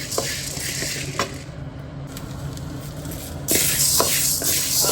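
Dry roasting 150 grams of chillies in a pan for sambar powder: a steady scraping, stirring rustle with a faint sizzle that grows louder near the end, close by and without talk.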